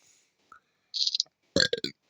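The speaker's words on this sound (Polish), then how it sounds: "czy to ty beknąłeś?" A short, loud burp erupts close by after a few small clicks and mouth noises, followed by a couple of quieter tail-end sounds, with no other voices present.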